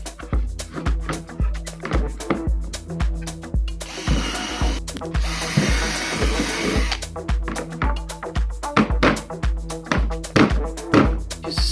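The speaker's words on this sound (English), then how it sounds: "So I installed the rear diffuser. I drilled 3 holes." A power drill bores holes through a rear diffuser on a cheap Fiat, its motor whirring in short repeated bursts with clunks between them, one longer steady run in the middle, loud and close with no talking.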